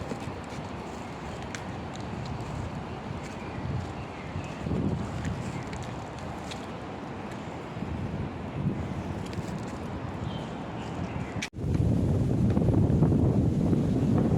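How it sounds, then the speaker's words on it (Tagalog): Steady wind roars and buffets a microphone throughout on a morning walk in Hong Kong, with a louder, rougher gust near the end. "Ang hangin."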